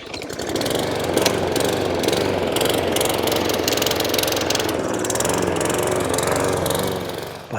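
A petrol lawn mower on an allotment runs close and loud with a steady engine drone, holding constant for several seconds before cutting out at the end.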